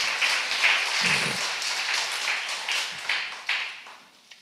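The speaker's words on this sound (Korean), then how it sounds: "우리 하나님께 영광의 박수드립니다." A church congregation at a worship service applauds, with dense, sustained clapping that fills the space throughout and no voices over it.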